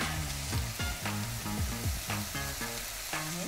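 Mushrooms fry in a hot pan with a busy, continuous sizzle and crackle, quiet but close, with no one talking.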